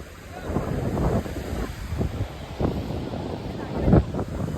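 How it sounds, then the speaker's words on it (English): Wind buffets the microphone on a busy city beach in Mumbai, with a steady roar of surf and gusts swelling and fading throughout while someone talks over it. "It's a busy beach, it's a Warsaw beach over here"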